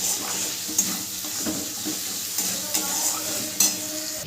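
Frying masala in a pan with turmeric and salt stirred in gives a steady close sizzle, with repeated spatula scrapes and a few sharp metallic clinks against the pan.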